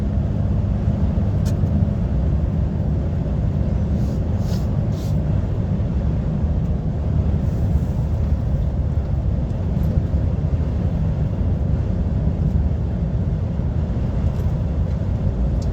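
A DAF XF lorry cruising downhill at 56 miles an hour on cruise control gives a steady low engine drone and road rumble from inside the cab, unchanging throughout with faint clicks and no talk.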